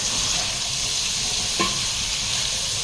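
Fish frying in coconut oil with ginger and garlic gives a steady, close sizzle with a constant hiss throughout and one brief stir or scrape partway through.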